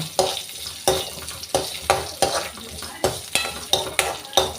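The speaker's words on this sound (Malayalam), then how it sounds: "ഇതൊന്ന് ചെറുതായിട്ടൊന്ന് വഴറ്റിയെടുക്കാൻ നോക്കാം" Ingredients with ginger being sautéed in a pan for fish curry, with about a dozen regular stirring strokes, each a sharp scrape that fades into a brief sizzle, evenly spaced and close.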